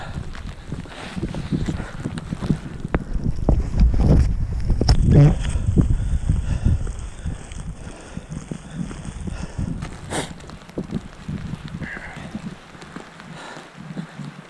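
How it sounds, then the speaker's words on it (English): Blustery wind on a snowy road near Mt Rainier, buffeting and roaring, rising in strong gusts before easing, with rough crackling noise like gusts hitting the microphone. "It's probably too windy."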